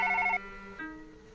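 A telephone rings in the horror video game One Late Night, a clear electronic two-tone trill that steps down in pitch partway through, close and alone with no talking.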